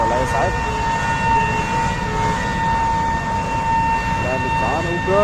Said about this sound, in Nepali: दुईटा दमकल गइरहेको छ। अर्को पनि गइरहेको छ।